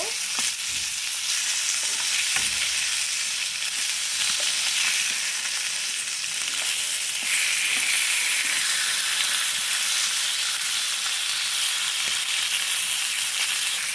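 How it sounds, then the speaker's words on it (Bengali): Fish pieces fry in a pan with a continuous bright sizzle throughout, plus soft scattered taps and shuffles from turning, and no voices. "মাছগুলো কিন্তু ভালোভাবে ভাজা হয়ে গেছে"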